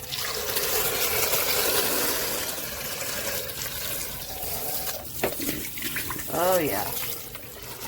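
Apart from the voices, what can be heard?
water running while washing out vacuum cleaner part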